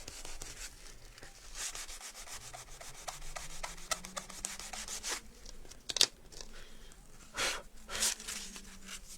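Steady rubbing and scraping of a foam sanding block across an MDF surface, with repeated back-and-forth strokes and a few sharper scuffs, fairly close and moderately quiet.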